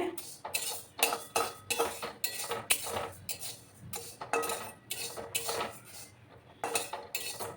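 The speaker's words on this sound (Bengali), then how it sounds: "অনবরত নাড়াচাড়া করে আমি ডালটাকে ভেজে নেব।" Mung dal fried in a pan for a lau shak dal recipe, stirred continuously with a utensil that scrapes and clinks against the metal in steady, repeated strokes, close and fairly loud with no talk.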